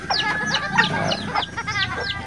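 Several chickens cluck and squawk in quick bursts, close and fairly loud, a busy overlapping chatter of short calls from a small flock.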